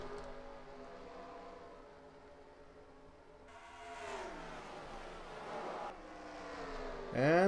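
Stock cars roaring off the green flag at Richmond in a racing video game, the engine drone building and rising in pitch as the field accelerates, with a closer car sweeping up sharply at the end.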